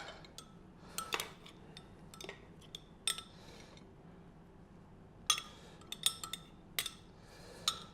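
A metal spoon scrapes and clinks against roasted squash on a plate, giving scattered sharp taps and short scrapes in an irregular rhythm, close and fairly quiet between the hits.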